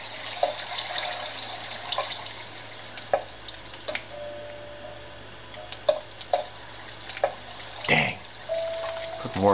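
Water sloshing and flowing in the Minecraft game on Xbox 360, a steady watery wash with scattered drips, splashes and clicks at moderate loudness and no talking.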